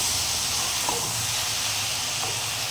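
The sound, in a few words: ridge gourd and onion frying in a pan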